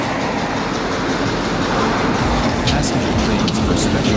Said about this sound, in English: Passenger train.